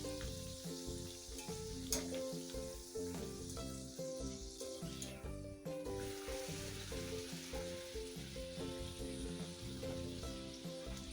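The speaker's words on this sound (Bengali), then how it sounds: "এবার কড়াতে তেল গরম করে প্রত্যেকটা কড়াতে ভালো করে ভেজে নেওয়া হচ্ছে।" Pea-filled kochuri deep-fry in hot oil in a wok, a dense continuous sizzle and bubbling crackle at moderate level, with occasional clinks of a utensil and no talking.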